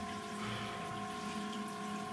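Rushing water splashes and churns steadily at close range, a continuous, even hiss with a low pumping hum and no voices.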